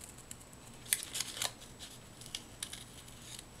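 Small scissors snip through a paper card for a handmade Father's Day card, a quick run of crisp, faint cuts close by, with no talking.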